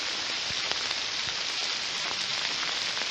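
Heavy rain pours down steadily on high ground during a cave search, a dense continuous hiss of drops with occasional louder splats, close and unbroken throughout.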